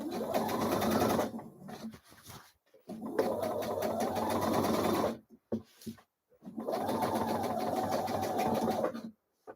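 A sewing machine runs in three steady bursts of a few seconds each while basting the hood of a hoodie, with short pauses and small clicks between the runs and no talk.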